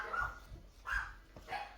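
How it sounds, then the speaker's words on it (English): Dogs in a home barking at a visitor at the door, three distinct barks spaced about evenly, moderately faint and slightly distant, with no talk over them. "the dogs are still barking"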